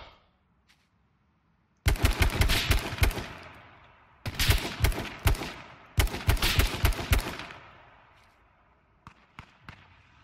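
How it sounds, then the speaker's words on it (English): Three loud bursts of rapid automatic gunfire in the survival game H1Z1, each a couple of seconds long and separated by short gaps, followed by a few scattered single shots. "The shots are coming from the houses."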